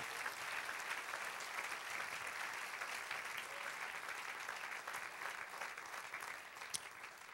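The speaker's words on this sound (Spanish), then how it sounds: "Dale un aplauso al Señor" Congregation in church applauding for the Lord, a continuous crowd-wide roar of clapping, steady and fairly distant, with no pauses.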